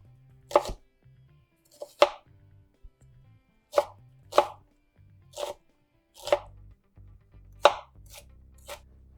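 A knife chops an onion on a cutting board for Italian wedding soup meatballs: about ten sharp, irregularly spaced chops, close and distinct, with short quiet gaps between them and no talking.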